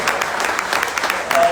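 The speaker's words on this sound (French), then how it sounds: "Applaudissez si vous n'êtes pas jaloux." A seminar audience at an international Christian youth camp claps steadily for about a second and a half, a dense patter of many hands at moderate distance with no voices above it.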